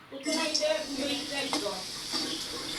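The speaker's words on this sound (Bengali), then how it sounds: "আলুগুলো লাল লাল করে ভেজে নেব।" Potatoes fry in a pan with a steady, hissing sizzle, heard close and continuous beneath a person speaking.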